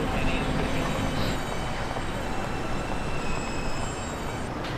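R160A and R179 E and K subway trains run uptown at Fairview Ave station, giving a steady, loud rumble of wheels on rail with faint high squealing throughout and no talk.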